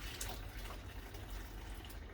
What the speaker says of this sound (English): And then you turn on your sink.